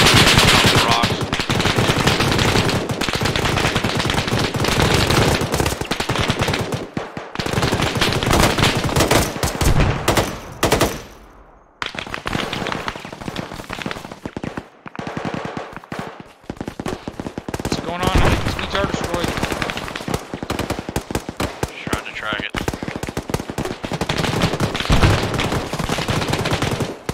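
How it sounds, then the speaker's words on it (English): Heavy gunfire in the military video game ARMA 3: loud, near-continuous automatic bursts fill most of the stretch, broken by one brief lull, with voices talking over the shooting. "I still hear one shooting."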